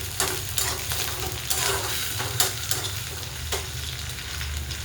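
Washed coriander sizzles and crackles steadily in hot oil in a pan while being stirred, with several sharp scraping stir strokes over a continuous close frying hiss.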